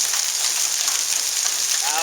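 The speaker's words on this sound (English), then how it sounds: "It's hailing mountains out here." Hail pelts down during a storm in Dallas, Texas, a dense, loud, steady hiss-and-patter of pellets striking surfaces close by with no break.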